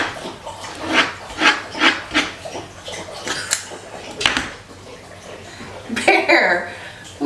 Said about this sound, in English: You guys hear my dog? He's the loudest drinker,